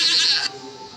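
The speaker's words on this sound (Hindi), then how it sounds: "बकरी गोट" A goat lets out one loud, wavering bleat, close by, that cuts off abruptly halfway through and leaves a faint, quiet background.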